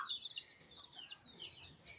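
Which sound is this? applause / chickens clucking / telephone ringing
chickens clucking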